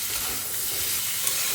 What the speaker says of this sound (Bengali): কালো জিরে ফোড়ন দিয়ে আলুটা দিয়ে দিয়েছি।